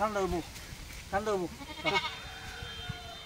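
A male goat bleats several times in quick wavering cries, close by, with a faint steady hum underneath.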